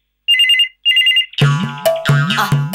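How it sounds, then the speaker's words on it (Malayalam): A telephone rings in a home scene from a Malayalam TV serial: two short, loud electronic ring bursts, then music swells in. "ഞാൻ ആ ഫോൺ എടുത്തിട്ട് വരാം"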